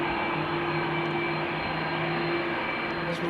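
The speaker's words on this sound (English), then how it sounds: "let's listen to some engine sounds for the first time" KLM Airbus A330 jet engines at Amsterdam Schiphol Airport, a steady whining hum with a droning tonal whine, heard from a distance on a showery day.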